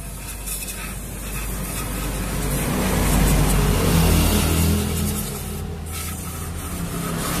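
Cleaner spraying onto the throttle body of a Honda Supra 125 FI motorcycle during a workshop service, a steady broadband hiss that swells in the middle and then eases, with no talking.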